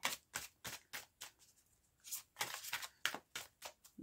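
Tarot cards are drawn and shuffled in a series of crisp papery riffles and flicks, about a dozen quick bursts coming close and fairly quiet with short gaps between them, heard with no talking.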